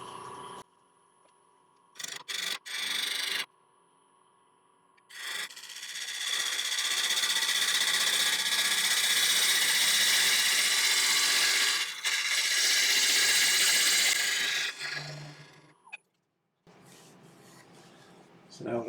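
A wood lathe spins a spalted beech blank at 900 RPM while the face is turned, a steady loud whirring hiss of cutting for several seconds, broken by short bursts and a voice at the start and end.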